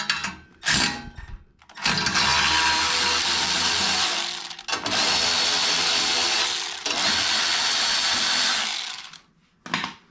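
A power tool loosens a nut on the turbo manifold of a GTO turbo build. It whirs loudly and close in long sustained runs, with short pauses between them.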